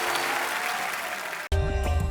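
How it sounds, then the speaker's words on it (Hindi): Studio audience on The Kapil Sharma Show applauds loudly and steadily for about a second and a half, then is cut off abruptly as music takes over. "जोरदार तालियां एक बार"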